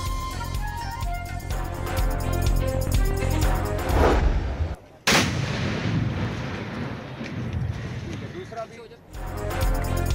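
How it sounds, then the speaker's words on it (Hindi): A blast set off to breach a flood protection embankment along a railway track, used to divert Chenab floodwater in Punjab, lands as a sudden loud boom midway, amid continuous broadcast background sound and a voice. "झंग को बचाने के लिए रेलवे ट्रैक पर कायम हिफाजती बंद धमाके से उड़ा दिया गया"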